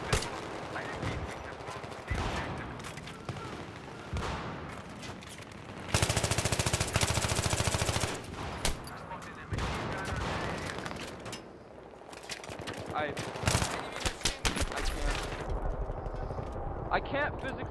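Gunfire in the video game Global Conflict: dense, repeated bursts of shooting with crackling impacts, heavy and continuous through the stretch, with players talking over it.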